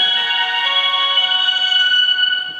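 A Nokia 230 keypad mobile phone plays its power-on startup tune, a loud, bright melodic chime of sustained tones heard close up with nothing else around it.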